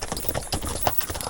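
Horse hooves clip-clop on a road in a Mennonite village in Belize, giving a quick, steady run of close hoof beats over a low background rumble.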